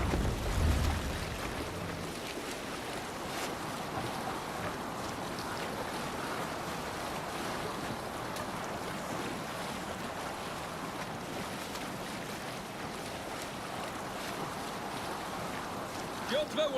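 A Viking longship under sail in Assassin's Creed Valhalla, with steady wind and sea wash rushing continuously over rolling waves and a low rumble at the start, broad and unbroken throughout.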